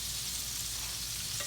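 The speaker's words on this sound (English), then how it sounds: "while that's frying" Catfish fries in hot oil for crispy fish tacos, making a loud, steady, close sizzle and crackle with no talking.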